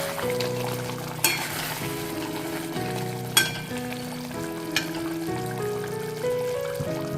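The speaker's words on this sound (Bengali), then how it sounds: "ভেজে রাখা ক্যাপসিকামগুলো দিয়ে দিচ্ছি এর মধ্যে মিশিয়ে নিচ্ছি" Fried capsicum stirred into a sizzling pan of paneer curry, with a steady close fry hiss, a few sharp spoon clinks against the pan, and soft music running underneath.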